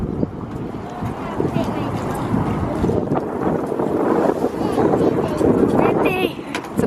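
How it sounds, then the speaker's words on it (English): Gusty wind buffets the microphone in a continuous low roar, with muffled voices talking underneath it. "It's a bit windy."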